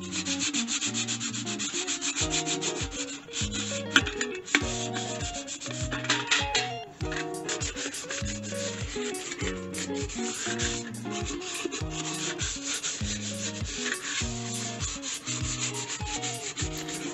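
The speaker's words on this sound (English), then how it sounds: "Mine's galvanized steel, so I have to sand it and prime it first." Rhythmic hand sanding of a galvanized steel bucket, repeated scraping strokes in a steady back-and-forth pattern for a long stretch, close and fairly loud with no talking.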